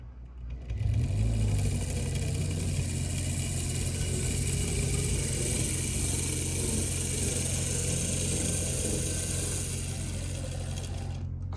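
A model railroad train runs backward, a steady whirring motor hum with a faint rattle that swells up after a moment and holds evenly, close and continuous, with no talking.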